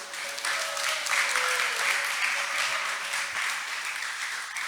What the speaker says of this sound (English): Let's give a big applause to Krishna